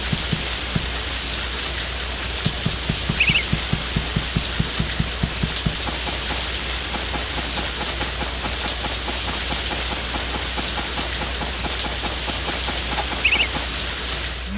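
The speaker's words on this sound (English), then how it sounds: "that job is already taken care of for me because it's raining" In the farming video game Harvest Moon: A Wonderful Life, rain falls steadily as a dense, even hiss with a faint rhythmic patter and a brief chirp or two over it, continuous and fairly loud throughout, with no speech.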